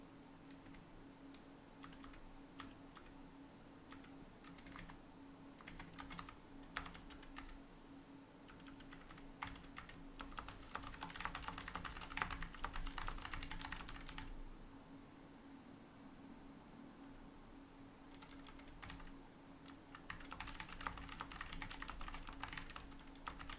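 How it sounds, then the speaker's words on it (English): Quiet keyboard typing on a computer, with bursts of rapid clicking alternating with brief pauses and a faint steady hum in the background. "I'm typing nonsense comments."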